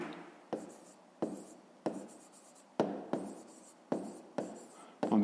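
A pen writes out a math exercise answer on paper in a series of quick, close scratchy strokes, each starting with a sharp onset and trailing off, separated by short pauses.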